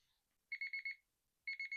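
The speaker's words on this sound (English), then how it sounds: "See, and the timer's done" A one-minute timer alarm going off in a quiet room, sounding a quick run of rapid, bright electronic beeps in a burst, a short gap, then a second burst of beeps, clean and alone.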